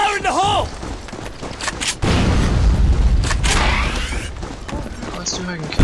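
A grenade blast in the online shooter Metro Conflict: a loud, sustained boom erupts partway through and rumbles on under game sounds and a voice talking over it.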